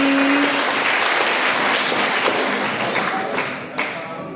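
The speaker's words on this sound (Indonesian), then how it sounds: "Tepuk tangan dong sekali lagi Bapak Ibu yang terkasih" A church congregation claps in a dense, steady round of applause at a cathedral ceremony handing over the parish priest's post, holding strong for several seconds before thinning out near the end.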